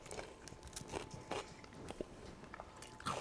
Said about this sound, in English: Now you're hearing us crunch on the cones.